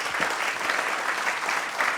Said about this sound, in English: let us again give Chris a round of applause for being here